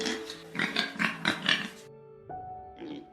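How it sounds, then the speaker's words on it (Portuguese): A farm pig grunts and oinks in a quick series of four or five bursts, followed by a brief pause and a final shorter grunt, close and clear with no talking. "Porco."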